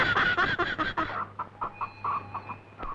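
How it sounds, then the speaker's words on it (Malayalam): A chicken clucking in rapid bursts at close range, a quick run of squawks followed by shorter, spaced clucks, with no talk over it. "ഇത് കാശ് കൊടുത്ത് മേടിച്ച കോഴിയാണ് കേട്ടാ."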